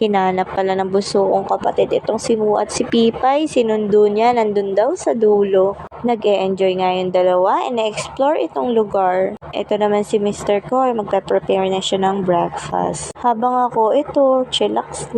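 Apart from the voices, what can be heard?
No everyday noise stands out behind the speech.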